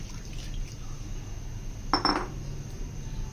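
A spoon stirs custard into milk in a pot over a low flame, giving a soft, faint scraping swirl with one brief, clearer metallic clink near the middle.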